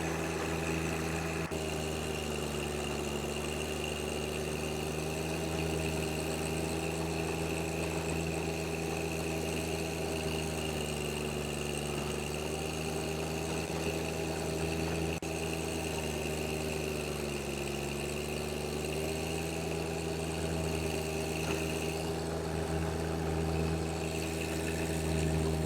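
John Deere 1025R compact tractor engine running steadily under load while tilling sod, a continuous droning hum with slight pitch dips, fairly distant and without speech.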